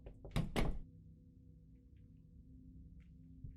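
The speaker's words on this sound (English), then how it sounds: "Heard that knocking" A couple of dull knocks sound on a door in the game God's Basement, two or three quick thuds close together, then quiet room tone.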